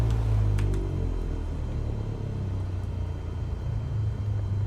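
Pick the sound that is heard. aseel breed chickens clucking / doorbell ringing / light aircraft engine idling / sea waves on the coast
light aircraft engine idling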